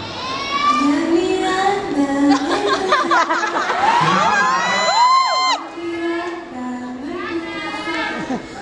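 A crowd of young concert fans screams and shrieks loudly in overlapping high-pitched bursts, with cheering swelling and fading throughout.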